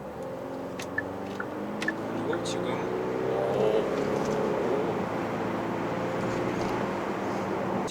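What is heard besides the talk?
Genesis GV70 2.2 diesel engine accelerating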